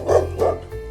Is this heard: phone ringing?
no